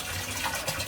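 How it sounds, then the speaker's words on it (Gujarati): Water pouring steadily into a rooftop water tank, a brief, even splashing rush close by with no voices. "ટાંકામાં પાણી પડે છે"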